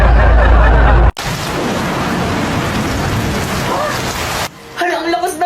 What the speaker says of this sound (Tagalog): Hala, ang lakas ng ulan.